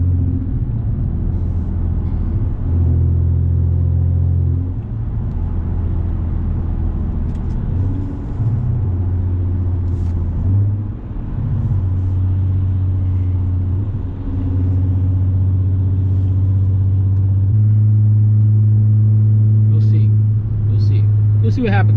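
Audi S4 engine cruising at night, a steady low drone with shifting pitch as revs change, road rumble throughout, heard from inside the car at constant loudness.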